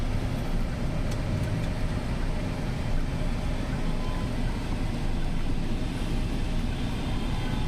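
Low steady engine rumble of a 2022 Mahindra Thar turning on the road, a continuous drone running the whole time with no breaks.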